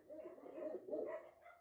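A dog gives a short, faint series of barks and yips at a distance, lasting under two seconds.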